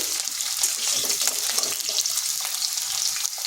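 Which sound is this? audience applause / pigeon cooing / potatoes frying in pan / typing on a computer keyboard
potatoes frying in pan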